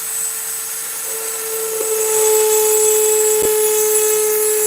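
A rotary tool fitted with a ball burr carves into a workpiece with a steady, loud, high-pitched whine that rises slightly partway through, with brief contact ticks.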